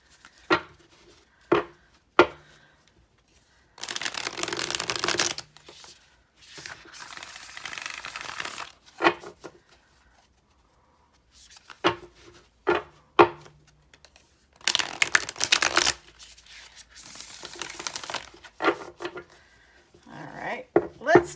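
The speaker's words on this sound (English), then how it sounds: "I do love this cardstock. It riffle shuffles beautifully" Tarot cards with flexible cardstock riffle shuffled in repeated bursts of dense, crisp fluttering, separated by sharp taps and knocks as the deck is squared, close and fairly loud with no talking.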